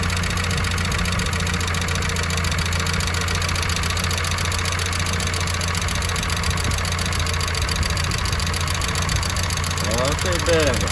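A car engine runs with a knocking fault, producing a loud, steady idle with a rhythmic mechanical tapping throughout, heard up close.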